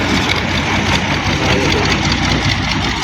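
A tractor engine runs nearby with a steady, loud, low mechanical chug and no voices.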